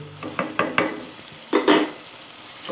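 Spice mixture with green chillies sizzling in a pan while a spoon scrapes and stirs, giving several close, sharp stirring strokes over a steady low frying hiss.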